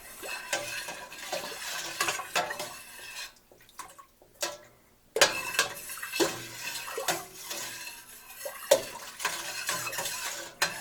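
An almond mixture for homemade almond wine being stirred in a pot: a utensil scrapes and clinks against the pot in an irregular rhythm, with sloshing liquid and a brief pause midway, close and moderately loud.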